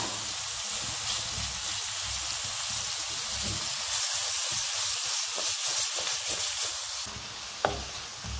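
Asparagus sizzling in a frying pan with a drizzle of oil, a steady loud crackling hiss that runs unbroken, with a small sharp clink near the end.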